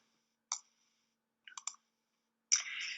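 Sharp mouse clicks in a quiet room: a single click, a quick cluster of two or three, then a final click followed by a short faint rustle.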